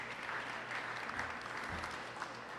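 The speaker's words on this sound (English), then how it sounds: "Let's give her a round of applause." Steady applause from a crowd at the New York State Fair during a butter sculpture unveiling, a continuous wash of clapping sustained for a few seconds, moderately distant with no voices on top.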